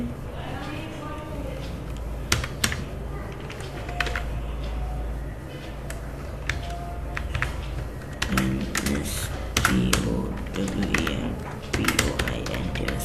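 Computer keyboard keys tapped in quick irregular bursts as software names are typed, close and fairly soft, with someone talking over parts of it.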